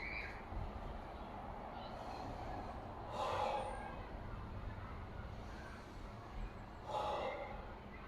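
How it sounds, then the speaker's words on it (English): People exhale forcefully and audibly during a team workout, two strong breaths a few seconds apart standing out over a quiet, breathy background. "Big exhales, get all the air out."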